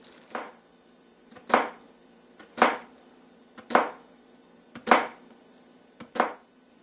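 An onion is chopped into tiny bits with a knife on a cutting board, six or so crisp, evenly spaced thuds about a second apart, close and clear with no talking.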